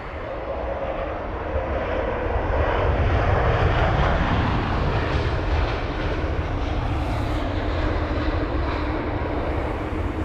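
British Airways Airbus A320-200 jet airliner at London Heathrow, a steady broad engine roar heard from a distance that swells gently and holds throughout.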